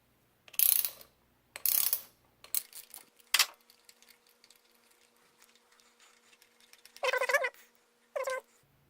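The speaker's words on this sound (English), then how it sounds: "socket wrench with the extension, stick it down in there, and then turn counterclockwise to loosen" A socket wrench with an extension loosens a spark plug on a Honda Civic. It gives several separate short bursts of sharp ratcheting clicks, close by, with quiet pauses between turns.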